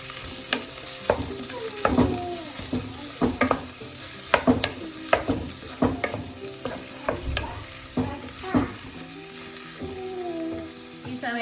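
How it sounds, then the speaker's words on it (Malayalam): A spatula repeatedly scrapes and tosses vegetable egg rice with a Maggi cube in a pan, making close, uneven clattering strokes over a light frying sizzle, with no one speaking. "മാഗി ക്യൂബും കൂടെ ചേർത്ത് നമുക്ക് നന്നായി ഒന്ന് മിക്സ് ചെയ്യാം."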